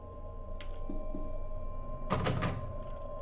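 A locked door rattles in the horror game Song of Horror: a short, loud burst of clattering knocks over a steady low hum, with a faint click or two beforehand.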